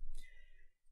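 A single Enter key press on a computer keyboard while working in Excel: one short, close click followed by quiet room tone.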